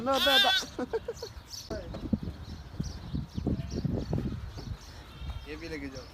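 Two sick young goats bleat from inside a vehicle, a few high wavering cries standing out near and clear while people talk over a rumbling background.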